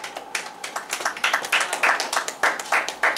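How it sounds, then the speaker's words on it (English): Clapping at a board of education meeting, honoring a team: a small group applauding nearby in quick, uneven bursts of sharp claps. "We'll give them a real big round of applause"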